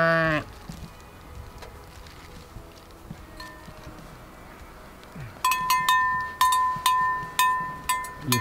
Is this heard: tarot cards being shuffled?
no